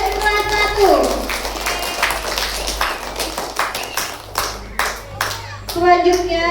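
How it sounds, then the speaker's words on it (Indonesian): Children and adults clap in rhythmic bursts for class 1 pupils after their song at a school Maulid Nabi celebration, sharp close hand claps with children's voices chattering between them. "sekali lagi berikan tepuk tangannya untuk Ananda dari kelas 1"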